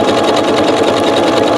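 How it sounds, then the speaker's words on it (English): Sewing machine stitching embroidery bobbin thread on black fabric, a fast steady whirring chatter, close and loud, running continuously with no voices. "let me do a lock stitch there to finish the end of it"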